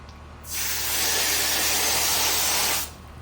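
A steady, loud hiss of water spraying off a painting on a board, starting abruptly and running for about two seconds before cutting off.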